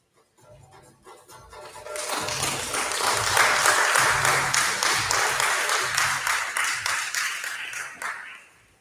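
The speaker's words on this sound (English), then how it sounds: "I'm sure we could give her another round of applause" An audience at an independence celebration claps in sustained, dense applause that swells within a couple of seconds, holds loud and steady, then eases off near the end, with no voices over it.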